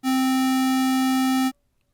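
A synthesized square wave tone holds a single steady pitch for about a second and a half, buzzy with dense stacked harmonics, then cuts off abruptly into silence.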